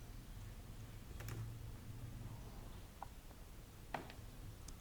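Sparse, faint clicks of computer keyboard keys being typed at a desk, a few separate taps spread over several seconds over a low steady hum.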